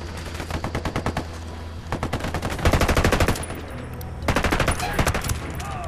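Gunfire in Ghost Recon Wildlands: loud, close bursts of rapid automatic shots in rattling volleys separated by short pauses, with a low engine-like hum underneath.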